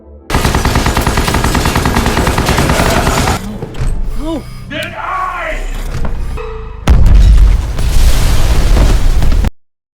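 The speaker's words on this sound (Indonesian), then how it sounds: "ledakan besar terjadi" Loud, sustained bursts of heavy gunfire and blasts in a film, broken by a short stretch of voices and softer sounds before a roaring landmine explosion cuts off abruptly.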